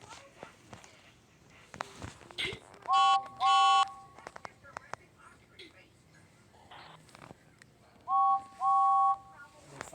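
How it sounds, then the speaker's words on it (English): Two toy James trains from Thomas toys sound their whistles, each giving a pair of short shrill two-tone toots heard twice, close and loud, with faint clicks and handling noise between. "we're gonna see if actually the whistle sound is different"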